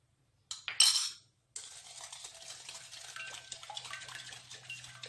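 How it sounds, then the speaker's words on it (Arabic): Batter for a one-egg Turkish caramel cake is stirred by hand in a bowl, a steady close scraping and swishing after a brief clatter of a utensil at the start. "ونمزجوا العناصر مزيان تخلط باش تجينا حتى الكيك مهويه وزوينه"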